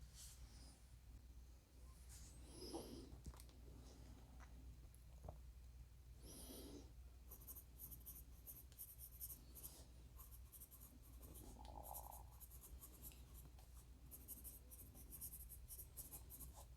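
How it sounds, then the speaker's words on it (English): A vintage Linton Rancho red cedar pencil scratching across paper, a faint, close, irregular graphite scrawl with brief pauses and light taps over quiet room hiss. "It's just such a joy to write with a beautiful piece of pencil history you just can't even imagine."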